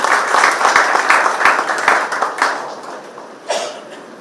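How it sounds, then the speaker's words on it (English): Applause for a craft curator at an art critique workshop, a full round of close clapping that swells early, thins and tapers over the last second with a brief final flurry. "A big round of applause for Sentilati Younger."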